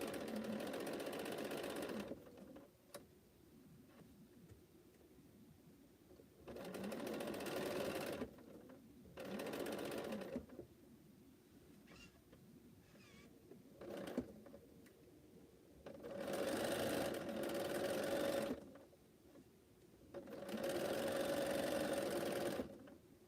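A sewing machine stitches along a quilt seam line while piecing Cleopatra's Fan blocks, running in several loud bursts of a few seconds each, separated by quieter pauses with faint handling sounds.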